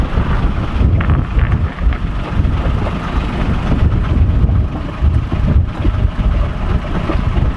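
Steady wind roaring over a sailboat at sea on the open ocean, a dense, continuous rush with low buffeting against the microphone and a faint engine idling beneath, with no talking.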